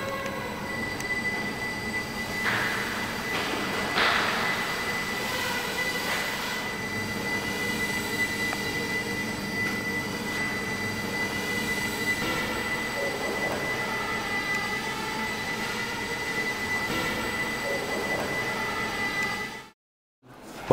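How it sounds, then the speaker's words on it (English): A Micro Drone quad rotor flies with a steady, fairly close whine of four small rotors, rising and falling slightly in pitch as it moves, before a brief cut near the end. "Micro Drone can navigate in all directions."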